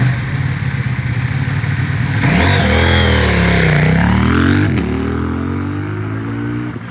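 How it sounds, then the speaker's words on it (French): A Chinese-made motorcycle revs hard at the start of a rally special stage in Charente, its engine climbing and falling loudly in a sustained sweep before settling back, with no talk. "Alors ça, c'était une moto chinoise."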